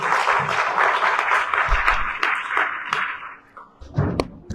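A church congregation applauds during a sermon, a dense and loud wash of clapping that fades after a few seconds, with a few thumps and scattered claps at the end.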